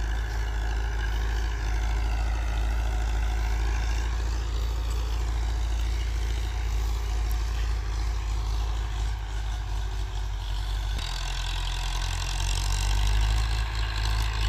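A smoking Mahindra tractor pulls a weighted harrow through a field, its engine holding a loud, steady, close droning chug that shifts tone slightly partway through.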